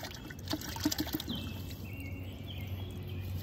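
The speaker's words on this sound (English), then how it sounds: "So I'm gonna rinse it off." Trillium roots are rinsed under trickling water, a soft steady pour and splash close to the mic, with faint bird calls in the background.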